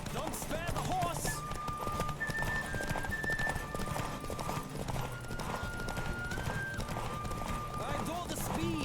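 A horse gallops in The Witcher 3 on PC, with rapid, continuous clip-clop hoofbeats at a steady rhythm over sustained musical tones.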